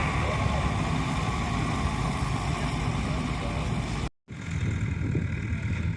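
An Allis-Chalmers tractor doing field work at a threshing bee, its engine running at a steady loud idle-like drone with a brief cutout near the end before resuming.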